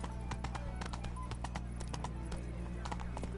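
Roach the horse galloping in the video game Witcher 3, a rhythmic clip-clop of hooves at a brisk pace over a steady hum of game music and ambience, fairly quiet throughout.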